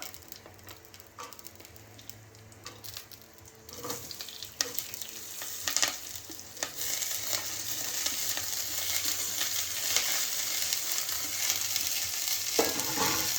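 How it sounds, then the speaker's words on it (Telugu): Whole spices frying in a spoonful of ghee, a soft sizzle that builds and thickens over time, broken by stirring scrapes and light clatter of a spoon in the pan, with no talking. "ఇవి కొంచెం పచ్చి వాసన పోయేదాకా వేయించుకొని"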